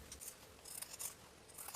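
Fabric scissors trim a dress neckline seam allowance down to a quarter inch, several quick faint snips close by in a quiet room.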